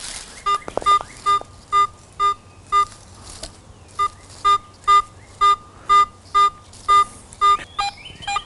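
Steady, evenly spaced electronic beeps from a Garrett metal detector repeat about twice a second over faint background noise, with a brief pause partway through.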